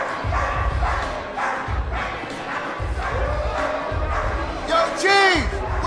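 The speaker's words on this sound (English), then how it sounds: "Of course he's into dog fighting." Dogs bark and yelp at an organised dog fight amid a shouting crowd, with repeated loud barks, rising cheers and a sharp high yelp near the end, heard under overlapping talk.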